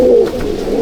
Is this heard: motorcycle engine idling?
no